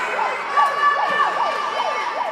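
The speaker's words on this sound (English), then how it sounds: "Somebody brought a siren in here." A handheld siren brought by spectators at a hockey game wails in rapid rising-and-falling sweeps, about six quick cycles, loud and close over faint arena noise.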